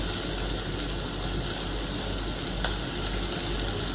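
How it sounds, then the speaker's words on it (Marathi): Vegetables frying in oil with goda masala, a steady dense sizzle from a pan over a low flame, close and continuous with one brief crackle midway. "याला तेल सुटेपर्यंत हा भाज्या मस्त भाजून घ्या"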